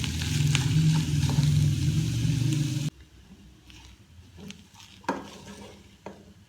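A sandwich vegetable mixture with cabbage and mint leaves sizzles loudly in a pan for a few seconds under stirring, then falls abruptly quiet, leaving scattered spoon clinks and scrapes against the pan.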